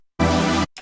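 Layered future bass synth chord built in Reason, a top end stacked over a fuller lower layer, sounds as one dense, wide, bright sustained hit with a brief tail fragment after, alone without talk.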